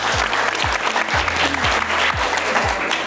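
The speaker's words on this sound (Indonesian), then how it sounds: "Tepuk tangan dulu untuk Kak Oli." A group claps for Kak Oli, giving steady, fairly loud applause throughout, with low repeated thumps running underneath.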